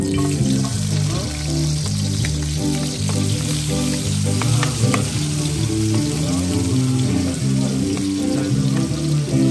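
Onions frying over a high flame in a home kitchen cooking needlefish, with a loud, continuous sizzle and crackle plus occasional stirring scrapes, close up and without talk.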